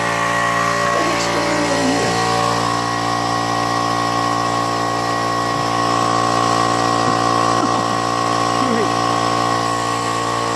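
Air compressor runs continuously and loudly nearby while filling a tank to 80 psi, a steady droning motor hum with tonal whine, while someone talks over it and a few brief squeaks occur.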